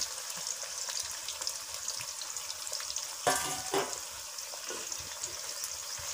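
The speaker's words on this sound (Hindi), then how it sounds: "तो ये देखो हमारी प्याज पक चुकी है, इसमें भुन गई है।" Onion and mango frying together in a pan, a steady close sizzle with stirring scrapes and a brief louder burst of crackle partway through, no talking.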